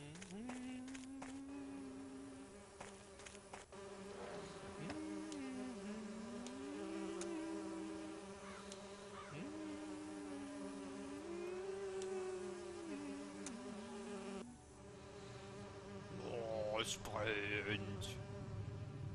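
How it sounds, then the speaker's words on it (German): Bees buzzing in a German let's-play of the game "Und Dann Gabs Keines Mehr", a steady wavering drone that rises and falls in pitch throughout, with a brief higher chirping near the end. "eben kümmern wir uns um die Bienen"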